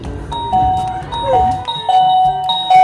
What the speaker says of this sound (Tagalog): Pumipindot sa doorbell namin!